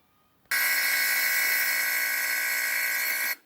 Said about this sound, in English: that vacuum pump is sucking the air out of that chamber